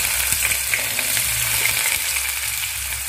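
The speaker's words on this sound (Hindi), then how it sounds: "अब मैं इसमें बारीक कटे हुए प्याज डाल देती हूँ।" Finely chopped onions sizzling steadily in hot oil with mustard seeds, cumin and urad dal for Rajasthani upma, a continuous close frying hiss with occasional crackles and no talking.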